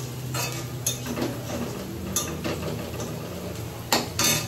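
Onions stirred in a pan, with a spoon knocking and clinking against the metal at irregular moments over a constant hissing background, close by and with no talk.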